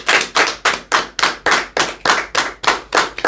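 A church congregation applauds in steady, rhythmic unison, about three claps per second, loud and close, with no talking over it.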